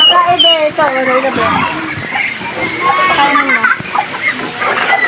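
Chickens, ducks and turkeys cluck and squawk busily close by at a farm, with overlapping bird calls, a voice and a little splashing water mixed in.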